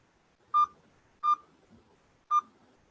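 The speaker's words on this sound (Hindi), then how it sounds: "नोकिया का जो एसएमएस का साउंड था वो भी मॉर्स कोड में ही था" Three short, clear electronic beeps of the Nokia SMS message tone, which spells a Morse code pattern, sound alone and evenly spaced about a second apart at moderate loudness.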